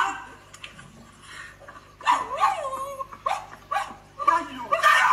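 A young man imitates a dog, giving a rapid string of loud, yelping barks and whimpers. It begins after a quiet moment and continues in bursts until the end.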